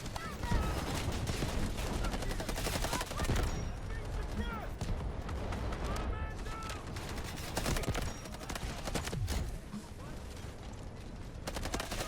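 Gunfire in the Delta Force shooter game: dense, loud, nearly continuous volleys of shots and blasts layered through the whole stretch, with a few sharper bursts standing out from the constant battle mix.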